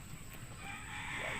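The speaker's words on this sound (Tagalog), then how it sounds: "Ayan yung red rooster." Chickens and a red rooster on a farm, a faint, brief clucking and crowing sound set against a quiet outdoor background.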